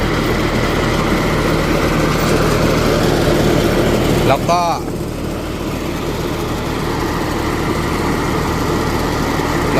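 A loud tractor engine runs steadily with a rough, chugging drone, joined by a short squeal midway before settling into a slightly quieter idle.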